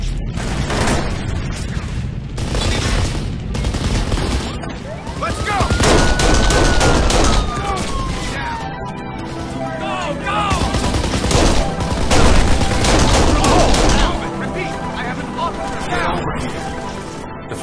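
Gunfire in a crime shooter video game: dense bursts of automatic fire and booming shots that rise and fall over several seconds, heard together with people talking over the action.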